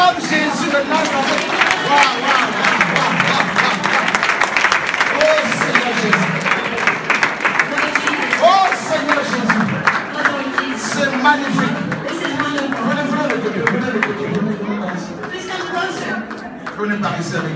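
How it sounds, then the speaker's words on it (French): Congregation at a church baptism service in Washington cheering and clapping, a dense, sustained wash of applause and shouts that fills the room for the whole stretch, fading slightly near the end. "On acclame Jésus de Nazareth."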